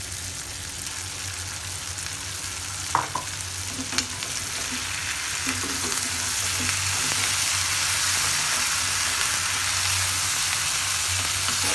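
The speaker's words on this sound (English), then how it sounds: "They have been frying for 5 to 6 minutes now." Prawns in marinade frying in a pan for a prawn and cashew curry, giving a steady close sizzle with a few soft stirring knocks, the crackle growing slightly louder toward the end; no talking.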